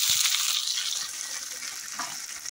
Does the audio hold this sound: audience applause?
no